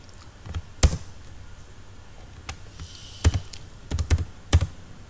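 Keystrokes on a computer keyboard while HTML code is edited, falling in scattered single taps and short bursts of two or three clicks, close and clear over a quiet background hum.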